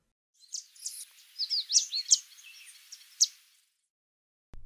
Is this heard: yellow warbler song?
yes